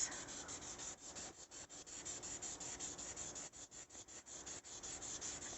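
Light, steady sanding strokes rub across a resin doll body in a continuous rasping rhythm, close up and fairly quiet, with no voices.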